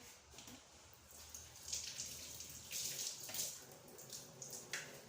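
Tap water running into a container while preparing vegetables in a home kitchen, a faint, steady splashing trickle with a few brighter drips, heard alone and quite far from the microphone.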